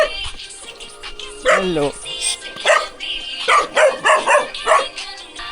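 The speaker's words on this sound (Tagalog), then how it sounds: "Ano yung aso? Dog. Dog is dog." A small dog barks and yips repeatedly in short bursts at a roadside stop near a dam in Pampanga, Philippines, with people talking over and between the barks.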